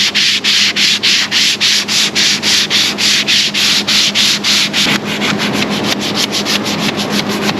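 Hand sanding of fiberglass with 80 grit sandpaper on a long block: loud, rhythmic rasping strokes repeat about twice per second, then turn into quicker, denser scrubbing near the end, with no talk.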